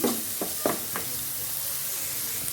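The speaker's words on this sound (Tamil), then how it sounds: "திரும்பவும் நம்ம வதக்கி கொண்டே இருப்போம்." Spices and rock salt sauté in a hot pan for a fish masala, a steady sizzle with a few sharp scraping stirs of a spoon near the start, close and alone.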